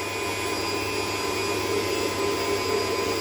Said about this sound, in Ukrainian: Збиваємо до посвітління і такого більш плотної консистенції.